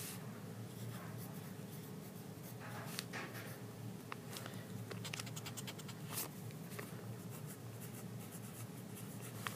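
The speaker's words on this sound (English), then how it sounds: "for this sort, we're just going to write long vowel and short vowel" A pencil writes in a notebook, soft continuous scratching with small taps and strokes, close and quiet over faint room noise.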